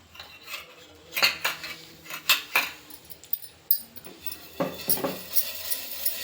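Oil rubbed onto a heated griddle pan for Telangana dosa, irregular metallic clinks and scrapes, some sharp and close, with quieter rubbing between.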